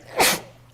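A single short, sharp sneeze, close and fairly loud, during a town zoning board meeting, with nothing else around it.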